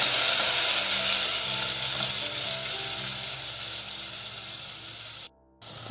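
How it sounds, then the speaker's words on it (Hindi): A spice paste with curry leaves cooks in a pan for tomato soup, giving a dense, loud, steady sizzle and hiss that fades slightly before cutting out abruptly near the end. "अब ये मसाला हमने अच्छे से पका लिया है"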